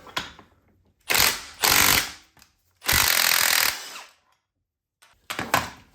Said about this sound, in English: we're going to use an impact to tighten these down too